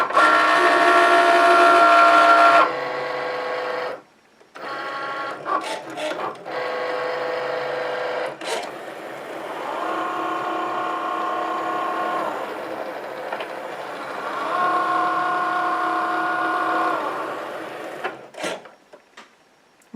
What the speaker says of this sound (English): Then I'm just going to click on the Cricut button, the go button,